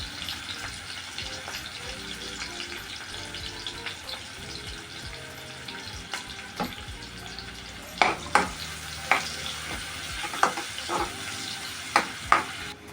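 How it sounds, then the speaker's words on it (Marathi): Onion, curry leaves and coriander fry in hot oil, a steady sizzle running throughout, joined in the second half by several sharp, loud clinks and scrapes of a spoon stirring the pan. "आता आपण हा कांदा आणि कढीपत्ता कोथिंबीर टाकूया आणि तेलामध्ये व्यवस्थित गोल्डन ब्राऊन होईपर्यंत परतून घ्यायचं"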